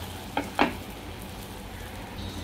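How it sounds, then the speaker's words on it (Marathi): Pav bread rolls hit melted butter in a hot pan with a couple of quick soft sizzling crackles, then a faint continuous fry hiss. "हे बटर घालून थोडंसं असं मेल्ट होऊ द्यायचं बटर आणि त्याच्यावरती आपण पाव घालायचा आहे"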